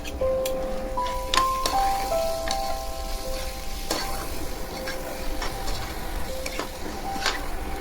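Mutton pulav being stirred in the pot after pure ghee goes in, with a steady close sizzle and scraping stir strokes throughout, a few high tonal clinks over the top.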